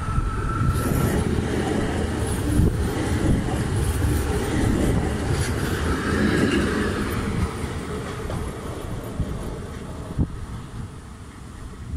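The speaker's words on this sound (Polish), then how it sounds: "Odjeżdża pociąg Regio Rega relacji Kołobrzeg - Szczecin Główny" A Regio train on the Kołobrzeg–Szczecin Główny line, unit EN63H006, pulls out of Goleniów station with a steady rumble of wheels and rail noise, plus a sharp click near the end.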